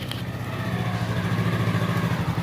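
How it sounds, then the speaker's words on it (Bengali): A motorcycle is taken out on a sunny day, its engine idling with a low, steady putter at moderate distance, no voices heard. "ওই দেখো বাইক বের করছে"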